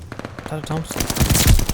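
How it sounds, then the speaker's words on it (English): Thompson submachine gun fire in a Call of Duty Vanguard match, rapid close bursts of automatic shots that grow louder toward the end, with a voice speaking briefly over the start. "Is that a Thompson?"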